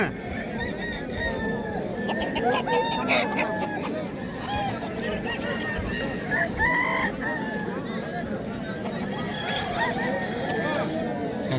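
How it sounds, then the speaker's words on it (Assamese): Chickens and roosters cluck and crow repeatedly at a rural spot crowded with fowl, calls coming from several birds near and far amid steady outdoor background noise. "চব পিনে কুকুৰা ভৰ্তি হৈ আছে।"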